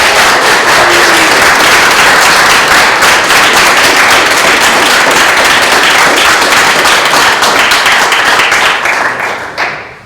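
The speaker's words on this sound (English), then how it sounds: "we're not used to applause" Dense, sustained applause from attendees at a town board meeting right after a resolution passes, a steady roar of clapping for about ten seconds before tapering off at the end.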